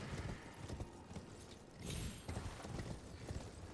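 Horse galloping in Elden Ring, a steady rapid clip-clop of hooves running close and loud for the whole stretch with no voices.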